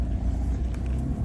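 Porsche car engine at an outdoor car meet, a deep continuous low rumble close by, fairly loud and steady with no talk over it.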